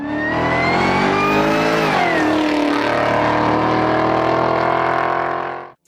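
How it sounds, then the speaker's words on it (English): A Pontiac GTO muscle car's V8 roars past, loud and close, its engine pitch sliding downward as it goes by, then holding a steady rumble before cutting off abruptly at the end. "a Pontiac GTO roars past, its V8 singing a symphony of raw power"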